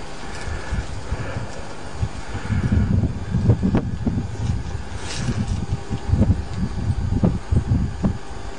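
Wind gusting outdoors on Ság hill in Hungary, a steady rough rumble buffeting the microphone with louder surges through the middle, no talking.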